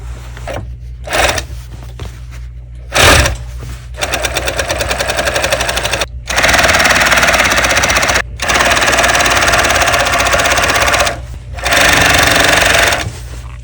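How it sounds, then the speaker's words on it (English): A sewing machine stitches along a jeans leg in rapid mechanical bursts. Short runs give way to longer steady runs, with brief pauses between them, all close and loud with no speech. "So right now we're just going to sew it, get the leg flattened out."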